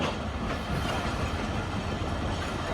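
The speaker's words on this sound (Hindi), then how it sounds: "12:15 बजे ट्रेन हमारी अप्रोच बना रही है मोइंजोदड़ो रेलवे स्टेशन पर" Train on the line approaching Moenjodaro railway station in Pakistan, a steady dense rumble of rolling wheels and carriage noise, close and continuous with no clear beats, no voices.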